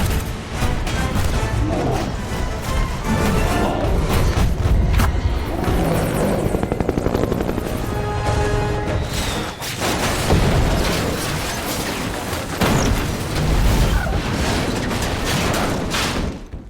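A helicopter crashing and exploding in a Rise of the Planet of the Apes film scene: loud, chopping rotor noise broken by heavy booms, crashes and repeated impacts over a dense, chaotic action soundtrack.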